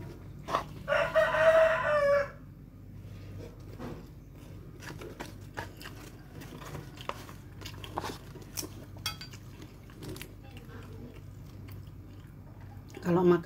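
A rooster crows once, fairly faint and off in the distance, during an outdoor morning breakfast of nasi pecel. Chewing, quiet clatter and background noise follow, and a voice briefly speaks near the end.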